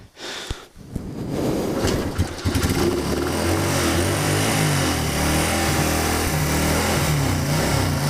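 A Honda CB motorcycle engine idles steadily after a brief start, held around 3,500 RPM, with a loud, even drone and a low rhythmic chug throughout.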